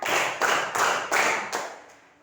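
Group hand claps in a classroom counting exercise, about five or six distinct claps in a steady rhythm, close and moderately loud, with the last one fainter.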